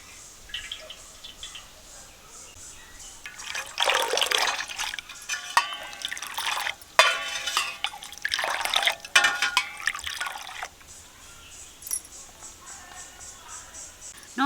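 Juice from kokum fruit soaked for two days being poured into a mix, with several bursts of liquid splashing and trickling, close and moderately loud, set against quiet background.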